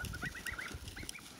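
Breeding geese honk in short, repeated calls at a goose farm, a scattered chorus of moderately faint cries with no voices.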